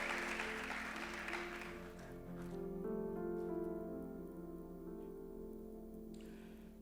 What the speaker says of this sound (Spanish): Le da un fuerte aplauso al Dios Todopoderoso